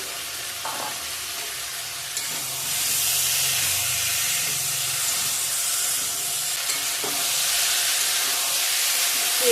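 Green chillies frying in hot oil in a pan for a fish curry with radish, eggplant and taro, a steady broad sizzle and hiss that swells slightly and continues without pause.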